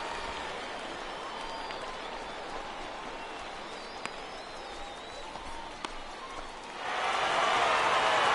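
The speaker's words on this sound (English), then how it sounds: "the home crowd is loving it" A baseball stadium crowd in MLB 18 The Show roars for the home team during a minor-league game, a steady broad wash of cheering that swells louder near the end, with occasional sharp claps.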